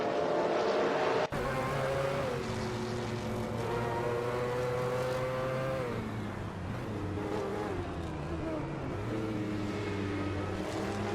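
Mercedes-Benz C11 Group C race car engine in a racing video game, a loud continuous drone holding steady and shifting pitch as it revs, with a sharp gear change near the start.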